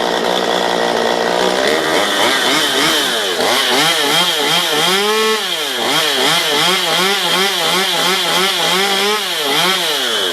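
A Stihl MS 192 TC chainsaw running after a tune-up and carburetor adjustment, its loud two-stroke engine close by, holding a high buzzing idle and then rising and falling in repeated rev swells, alone without speech.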